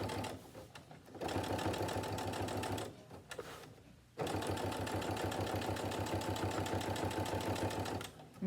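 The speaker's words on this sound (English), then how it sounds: "you get to go as fast or as slow as you would like while sewing" A sewing machine stitches fabric for an Italian Renaissance costume, a steady rapid mechanical whir running in long bursts with brief pauses between them, close and clear.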